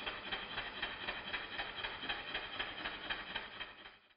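Steady, evenly spaced chuffing beats from a small steam engine, a quick regular rhythm running continuously with no voices.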